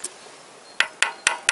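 A hammer taps the crankshaft pulley on a Toyota VVT-i engine during assembly: one light knock, a pause, then four sharp metallic strikes in an even rhythm, close and crisp.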